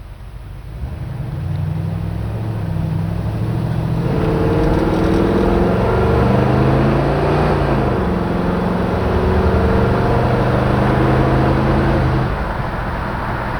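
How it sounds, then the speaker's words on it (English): A 1967 Chevrolet Chevy II Nova with a 350 engine accelerates at highway speed, the engine note climbing in pitch and dropping as the transmission shifts. It grows louder and holds a steady, close drone. "Hopefully you can hear in the video the transmission shifting"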